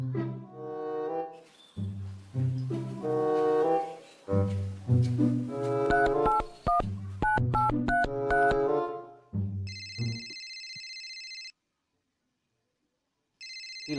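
A telephone rings in a short comedy scene, its electronic ringtone sounding in two bursts near the end after stretches of music, loud and close.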